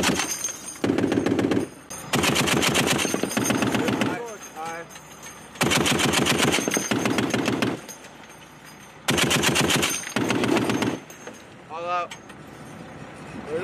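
U.S. Marines fire a belt-fed machine gun in long sustained bursts, loud and close, with brief pauses between strings of fire and a voice heard briefly in the gaps.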